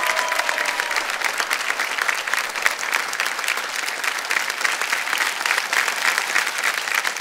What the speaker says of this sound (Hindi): जोरदार तालियां बजा दीजिए जनता